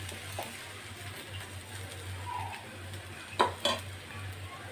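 A besan cheela frying in a little oil on a pan, giving a low steady sizzle with a couple of brief scraping knocks near the end, close and with no talk.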